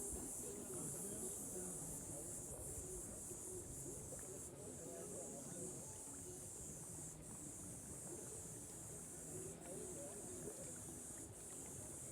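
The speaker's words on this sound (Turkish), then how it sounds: "Cırcır böceklerinin sesiyle, kuş sesleriyle yüzmek mümkün." Crickets chirp in a steady, continuous high trill over a low rumble of lapping water at a swimming cove in Akbük, Turkey, with no other sounds standing out.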